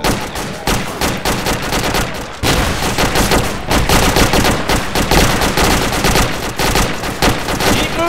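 Sustained gunfire in the Arma 2 military shooter: dense, rapid automatic bursts and overlapping shots rattle continuously and loudly throughout, with a short lull near the two-second mark before the barrage resumes.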